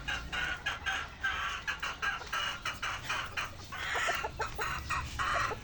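Chickens clucking in a small backyard coop, a steady series of close, rhythmic clucks and short calls from several birds.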